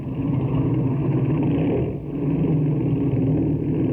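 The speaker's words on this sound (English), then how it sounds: "we'll run this engine up and see how she's hitting" Airplane engine running up in an old-time radio drama sound effect, a loud steady droning roar with a brief dip midway before resuming at full power, heard without speech.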